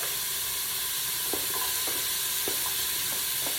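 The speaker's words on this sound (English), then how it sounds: "I'm going to go ahead and add my potatoes in there." Diced red potatoes tumble into a soup pot of sizzling, stirring vegetables, with a steady frying hiss throughout and a few soft thuds and scrapes as the pieces land and are moved around.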